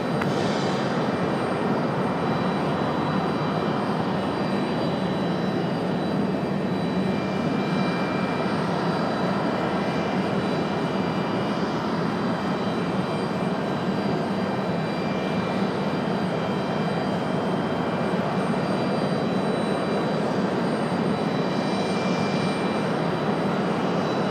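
A departing airliner at Raleigh Durham International Airport roars steadily for the whole stretch, a broad sustained engine rumble with no talk over it.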